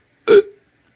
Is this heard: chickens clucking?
no